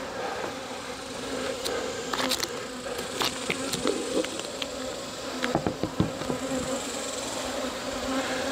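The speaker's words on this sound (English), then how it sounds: "the bees that are in here are alive, so you don't kill any bees" A dense, steady drone of many honeybees buzzing up close inside a hive, with occasional louder bees zipping past and faint knocks.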